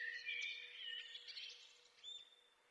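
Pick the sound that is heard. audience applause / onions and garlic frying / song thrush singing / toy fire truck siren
song thrush singing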